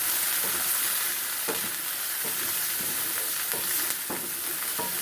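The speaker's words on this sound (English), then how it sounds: "now I've added my pearl onions to my hot pan and let them get a little charred" Pearl onions sizzle in a hot pan as they char, giving a steady, close, bright frying hiss with faint stirring clicks and no talking.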